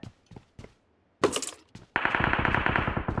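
Gunfire rings out in the mobile game PUBG Mobile, first a few isolated shots and then a loud, sustained rapid burst of automatic fire close up.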